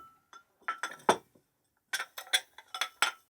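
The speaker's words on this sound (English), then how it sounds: "Dishes are clinking. Someone is setting the table." Dishes and glassware clink in two bursts while a table is set, several sharp ringing knocks close by with a short pause between groups.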